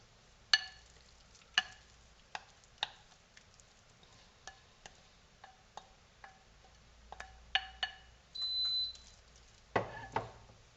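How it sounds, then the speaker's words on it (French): Meat browning in a pan for spinach-ricotta cannelloni, heard as sparse, sharp crackles and pops over a faint low hiss, with scattered quiet ticks and a brief brighter burst near the end. "je fais revenir la viande"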